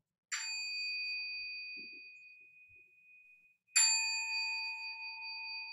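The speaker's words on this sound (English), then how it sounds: "Bells, please." A bell struck to open a Zen Buddhist Sunday service rings out twice, each clear ringing tone decaying slowly into near silence before the second strike, with no talk over it.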